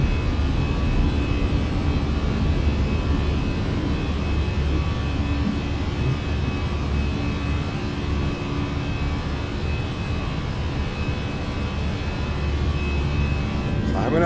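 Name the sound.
Fenix A320 jet engines climbing out, Microsoft Flight Simulator game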